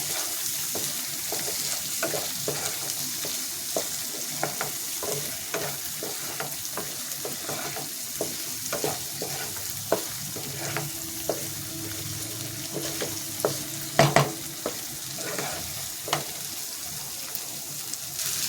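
Whole green chillies fry in a pan over a raised gas flame, a steady crackling sizzle punctuated by repeated scraping and tapping of a spoon as they are stirred, with no talking.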